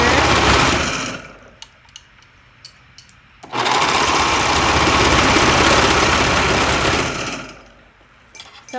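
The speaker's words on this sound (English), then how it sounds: "I'm just going to sew down each one of the sides here. And I'm using my serger." A serger stitches down the sides of a baby top sewn from old basketball shorts, with a loud steady motor whir in two bursts separated by a pause full of small clicks and handling sounds.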